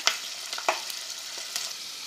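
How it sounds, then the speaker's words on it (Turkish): Steady crackling sizzle of chicken döner frying in a hot pan, with a few sharper pops and spatters, close up and fairly quiet. "güzelce kızartma tavamıza alıp güzelce kabuklarıyla kızartıyoruz"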